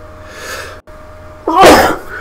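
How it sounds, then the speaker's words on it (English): A single loud, close sneeze bursts out after a stretch of quiet room noise, a sharp explosive blast that fades over about half a second. "I think I'm gonna sneeze, excuse me."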